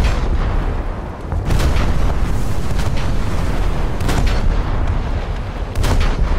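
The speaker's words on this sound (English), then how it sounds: "get that secondary explosion" Secondary explosions aboard a U.S.S. Asheville ship in a naval video game, a loud continuous rumbling roar punctuated by three sharp blasts spaced a couple of seconds apart.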